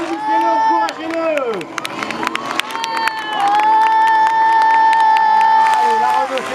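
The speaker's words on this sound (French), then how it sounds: "Faites du bruit à ce passage. Allez, applaudissez-le, encouragez-le." A crowd at a stock car race cheers and shouts for a driver passing by, a steady loud roar of voices mixed with scattered clapping under an announcer speaking over a loudspeaker.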